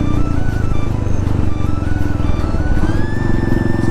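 A Royal Enfield Hunter 350 engine idles and warms up close by, a steady loud thumping rumble with a whining tone rising slightly toward the end.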